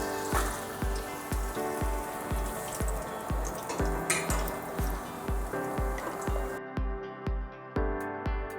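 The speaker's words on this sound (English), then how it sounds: "So now that I'm done frying the chicken" Oil sizzling and crackling steadily as chicken tenders fry, with a regular thumping beat of music running underneath.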